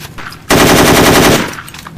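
Loud burst of rapid automatic gunfire in a shooter video game, a dense run of shots lasting about a second before cutting off, with no talk over it.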